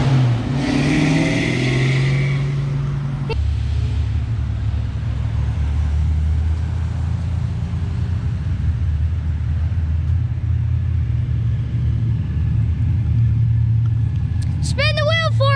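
A Mustang at a car show, a powerful engine rumbling and revving loudly and steadily close by, with a brief roar at the start and people talking over it.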